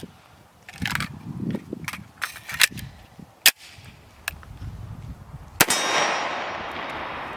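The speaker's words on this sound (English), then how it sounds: "I'm shooting some of that cheap ass Tula ammo and it's not helping me." An FN FNX-45 pistol firing cheap Tula ammunition, heard as several sharp, separated metallic cracks spread irregularly over the stretch, with one especially loud shot followed by a brief hissing wash.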